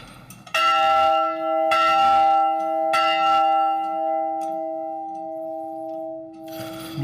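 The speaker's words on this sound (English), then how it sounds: "You can ring the bell." A large bell in an abandoned building is struck three times in succession, each loud clang ringing out with a long sustained hum that slowly fades, followed by rustling at the end.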